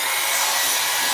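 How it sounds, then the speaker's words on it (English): A blow dryer with its heating element disconnected runs steadily, blowing a loud, close, hissing rush of air with no pauses. "if I have my blow dryer here"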